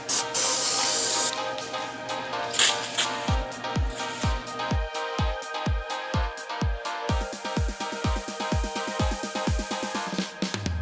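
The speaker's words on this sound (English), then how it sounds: "we cleaned it a little bit with some cleaner to get all the oil and debris off" Cleaner is sprayed onto a part from a crashed BMW X5 M50i: a long hiss at first, then a rapid run of short, sharp trigger sprays, close and loud.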